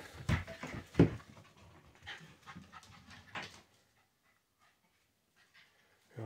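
A dog pants and huffs close by in quick rhythmic bursts, with a couple of sharp louder puffs, then falls quiet.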